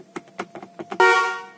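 Several light clicks and taps come first, then a single loud blast from a modified car horn on a Nissan Grand Livina, bright and close, fading out quickly.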